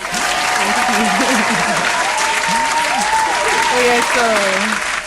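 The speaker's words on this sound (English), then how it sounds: "So I'm gonna clap for you because that's a good virtue." Loud, sustained hand clapping from a studio audience during a lounge-style interview show, dense and continuous for five seconds while voices call out and talk over it.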